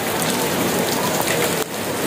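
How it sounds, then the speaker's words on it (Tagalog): Heavy rain pours down steadily, a dense, loud hiss of drops drumming on surfaces with no break across the moment. "Ang lakas ng ulan, pare."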